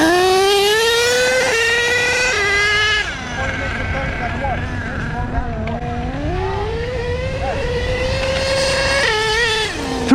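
HPI Savage XL K5.9 three-speed nitro RC truck running flat out, a loud continuous high-pitched two-stroke whine that rises and drops as it shifts and accelerates, near and dominant throughout.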